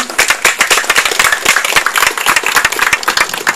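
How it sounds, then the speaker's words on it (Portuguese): Applause and clapping for a para-athlete swimmer at a lecture, a dense burst of many hands clapping steadily and loudly throughout, close and continuous. "então uma salva de palmas aí para o André."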